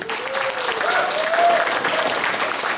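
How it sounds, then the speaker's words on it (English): Conference audience at the Anishinabek Health Conference gives a sustained round of applause for Autumn Peltier, a dense, steady wash of many hands clapping close by, with a faint voice briefly audible over it. "a round of applause, Autumn Peltier"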